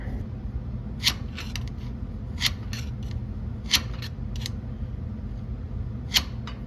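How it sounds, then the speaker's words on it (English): A screwdriver tip scratches a mark into a small metal part, producing sharp, brief scraping strokes repeated about every second or so over a low, steady background hum. "Mark it with a screwdriver."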